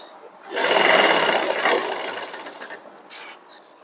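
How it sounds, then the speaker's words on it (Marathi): A sewing machine runs in one steady burst while stitching marked dots on a blouse, loud and close, then trails off, with a short sharp click near the end. "आपल्याला त्याच्यावर इथं शिलाई मारायची आहे"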